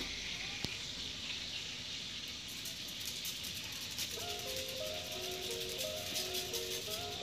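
Tilapia fillet fries in a pan as fish seasoning is sprinkled over it, giving a steady, hissing sizzle that stays level throughout with a faint tinkling rattle near the end.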